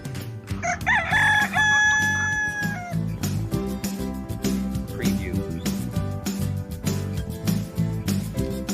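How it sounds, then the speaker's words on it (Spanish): A rooster crows loudly in the opening seconds, with a long, ringing cock-a-doodle-doo, heard over steady background music in a children's animal-sounds quiz. "Excelente, ese es el gallo."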